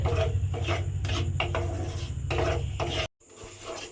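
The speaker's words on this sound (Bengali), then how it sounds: "এবার এই চিনির সঙ্গে তালটা খুব ভালোভাবে একটু মিশিয়ে জাল দিয়ে নিতে হবে।" Palm pulp and sugar stirred together in a cooking pan, giving repeated scraping, rubbing strokes of a spoon against the pan over a low background hum, then a sudden cut and quieter scraping.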